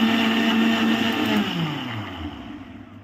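A kitchen blender whirs as it beats a quarter litre of milk with a pinch of salt, a steady loud whine that then slides down in pitch as the motor winds down.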